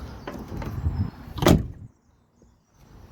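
A 1981 Cadillac Seville's door is pushed closed with a solid, firm thud after some shuffling and movement, then near silence with faint faraway noise.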